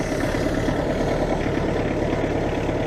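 A small tractor used for raking a lawn runs steadily, a loud continuous low rumble without pauses or revving, close by, with no voices.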